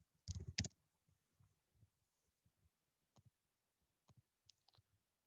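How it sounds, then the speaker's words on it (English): Calculator buttons pressed during a math exam review, heard as a few quick loud clicks near the start followed by sparse, quieter single taps spread out over several seconds. "You can hear my calculator clicking."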